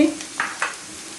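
A soft sizzle of mixed vegetables (papaya, pumpkin, potato) frying in a pan after onions, with a couple of brief stirring scrapes, quiet and close.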